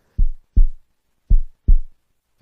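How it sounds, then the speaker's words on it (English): A heartbeat sound effect thumps in an audio drama, deep and close, in paired beats: two thuds, a pause, then two more, with nothing else around them. "I could feel my heartbeat."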